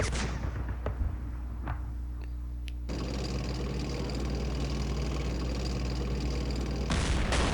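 Gunfire and artillery in the Campaign Series West Front war game: deep rumbling booms and a heavy low drone, with a sharp blast near the start and another burst at the end.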